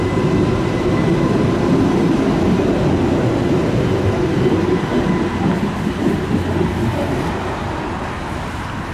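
A U-Bahn subway train passes near the new Neckar bridge construction site in Stuttgart, a loud, close, steady rumble and roar that fades slightly toward the end.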